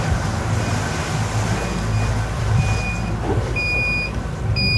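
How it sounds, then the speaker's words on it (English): A battery alarm aboard a sailing boat at sea gives short, high electronic beeps at irregular intervals over a constant low rumble of wind and water, with no voices. "that's the battery alarm."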